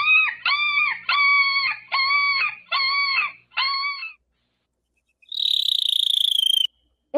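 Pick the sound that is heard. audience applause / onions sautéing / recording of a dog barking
recording of a dog barking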